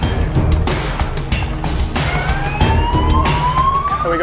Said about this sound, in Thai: และเมื่อเสียงไซเรนดังขึ้น นั่นคือจุดเริ่มต้นของการเล่นเกม